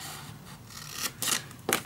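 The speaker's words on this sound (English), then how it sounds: "I'm just gonna cut down the complete fold lines." Scissors cut through junk-journal paper along fold lines, giving a few short crisp snips and a scrape near the end over faint background noise.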